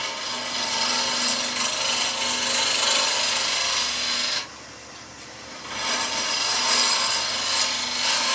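A woodturning tool drags across the surface of a spinning timber blank on a lathe, giving a steady, loud rasping scrape with a brief softer dip midway before the cut resumes, no talking.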